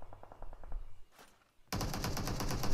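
Weapon fire in the mobile shooter PUBG Mobile, with a few spaced shots followed by a loud, sustained burst of rapid automatic gunfire close by, no talking.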